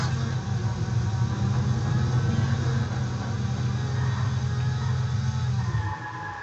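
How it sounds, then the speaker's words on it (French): Car engine idling in the Watch Dogs video game, a steady low rumble held continuously at even volume before easing slightly at the end. "nous avons bien le bruit du moteur"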